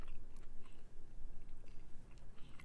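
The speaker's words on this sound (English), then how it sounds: "You can hear some chewing." Close-up chewing and crunching of food right at the microphone, continuous wet mastication over about three seconds with no talk.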